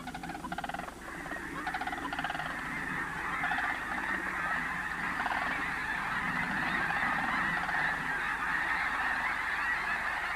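Huge wintering flocks of sandhill cranes at Bosque del Apache call in a dense, continuous chorus of overlapping honking and trumpeting, steady and distant-sounding across the whole stretch.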